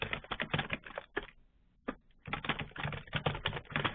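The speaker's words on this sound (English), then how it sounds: "So I'm typing in the narrative and hitting save." Rapid typing on a computer keyboard during a webinar produces dense bursts of clicking keystrokes, with a brief pause and a single tap in the middle, close and steady with no talk.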